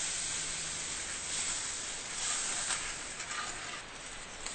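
Milk mixture for corn pudding heating toward a boil in a pot on the stove, giving a steady, soft hiss and faint sizzle throughout with no talking.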